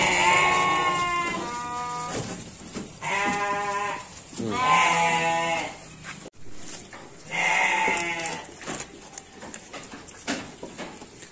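Garut sheep bleat loudly and close by in a series of long, wavering calls, with several bleats following one another and short pauses between them, and no talk over them.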